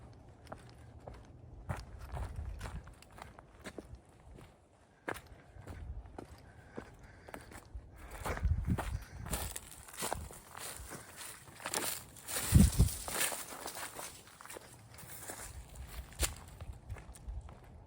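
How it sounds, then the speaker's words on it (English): Footsteps walking outdoors in the woods, a series of dull, irregular steps at moderate distance with rustling, growing louder in the middle before easing off; no talk. "did you fucking hear those footsteps?"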